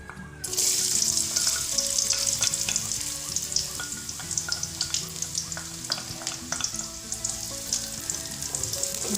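Garlic sautéing in freshly poured hot oil gives a steady, loud sizzle with a bright hiss. Scattered crackles and occasional scraping stir sounds run through it, and no one speaks.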